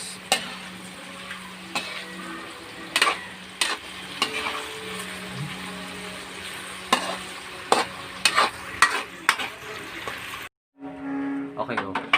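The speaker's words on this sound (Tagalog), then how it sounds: "So frying this hot dog will be good for at least" A hot dog fries in a pan, with a steady sizzle under repeated stirring scrapes and clinks of a utensil. A brief gap near the end is followed by a lower hum.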